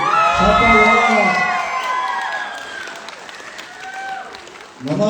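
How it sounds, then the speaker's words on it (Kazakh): An audience at a live comedy show cheers and shouts, with excited voices and whoops rising loudly and then slowly fading, before a fresh burst of noise comes at the very end. "Ыстық шапалақ соғып қойыңыздар"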